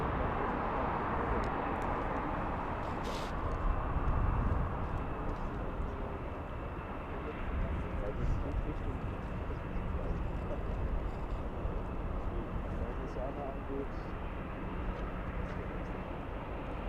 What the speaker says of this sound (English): Korean Air, big 747. This one flying in from From Vienna?